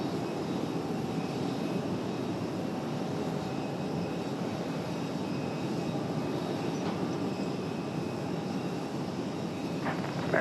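A Boeing 777 jet airliner on its takeoff roll at Raleigh-Durham International Airport, a steady broad engine roar heard from a distance, sustained and even for the whole stretch with no voices.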